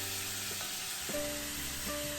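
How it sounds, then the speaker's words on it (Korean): Beef and minced garlic stir-frying in perilla oil in a pot give a steady, close sizzle throughout, with a faint tonal hum running underneath. "고기를 핏기가 없어질 때까지 1분간 볶는다."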